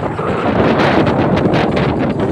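Strong wind buffets the microphone at a resort in Lian, Batangas, a loud continuous roar with gusty swells and no voices.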